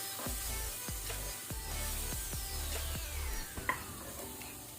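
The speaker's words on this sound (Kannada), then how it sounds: "ಸ್ವಲ್ಪ ಒಂದು 20 ಸೆಕೆಂಡ್ ಫ್ರೈ ಮಾಡ್ಕೊಳ್ಳುವ ಲೋ ಫ್ಲೇಮಲ್ಲಿ." Dry masala spices stirred and fried on low flame in a pan for dal tadka, with soft sizzling under repeated scraping strokes of a spoon against the pan and a faint clink near the end.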